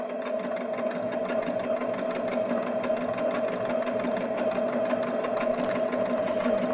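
A Baby Lock Jazz II sewing machine runs steadily while overcasting fabric edges, its fast, even needle chatter continuing at a constant close level without pause and with no voices.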